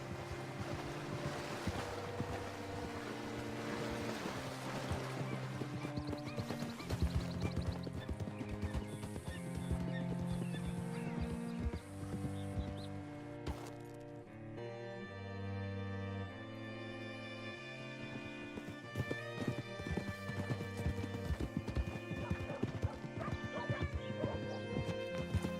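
Horse hooves clip-clopping during a ride in a video game, a steady run of hoofbeats mixed into music, wind and water-like ambience at moderate loudness throughout.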